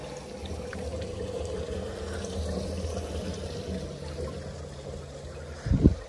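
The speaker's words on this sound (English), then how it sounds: "That was the water." Water pours and splashes steadily at a resort on the Cretan coast at dusk, a continuous close rushing wash that swells into a louder splashing burst near the end.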